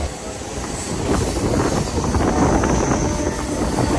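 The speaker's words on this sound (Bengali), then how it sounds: "আমাদের ট্রেন কিন্তু সাঁতরাগাছি থেকে রওনা দিল মেচেদার উদ্দেশ্যে" A train leaving Santragachi rumbles steadily along the rails, a loud continuous roar with rattling wheels and a thin high squeal running over it.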